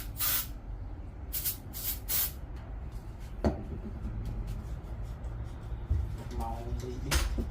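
Brake cleaner sprayed into a non-running pit bike engine: several loud, close bursts of hissing spray in short pulses, with a sharp clank and workshop noise between them.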